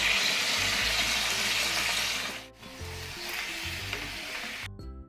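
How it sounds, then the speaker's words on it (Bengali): Chicken frying in a pan with salt and Kashmiri chilli powder for handi chicken, giving a steady, close hiss of sizzling that briefly dips midway and cuts off near the end. "অল্প লবণ আর কিছুটা কাশ্মীরি গুঁড়ো লঙ্কা দিয়ে একটু ভালো করে ফ্রাই করে নেব"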